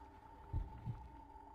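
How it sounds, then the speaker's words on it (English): Low, muffled heartbeat thumps inside a Tyranid hive ship in the video game Deathwatch, two soft beats over a steady droning hum and ambient tone. "We are inside a Tyranid hive ship, so that's why you hear a heartbeat."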